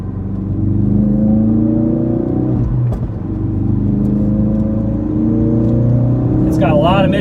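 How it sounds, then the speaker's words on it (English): 2017 Ford Focus RS engine pulling through the mid-range, a steady loud droning rumble with rising harmonic tones, close-up from inside the car, briefly dipping around a gear change before building again. "It's got a lot of mid-range grunt."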